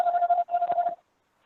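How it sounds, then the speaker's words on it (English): During an online association meeting, a telephone emits a loud, close electronic tone in two short bursts with a brief gap between them, then falls silent. "Can someone please turn the phone off?"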